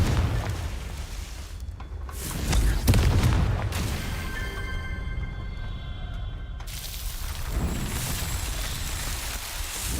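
A Confringo blasting spell goes off in Hogwarts Legacy, a deep booming explosion swelling to a peak and then rumbling on beneath a ringing, shimmering magical tail, followed by another burst of noisy rumble.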